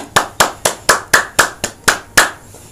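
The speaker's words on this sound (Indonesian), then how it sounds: "Tepuk tangan." Nine sharp, evenly spaced hand claps ring out close and clear at a brisk, regular rhythm, each crisp snap fading quickly before the next.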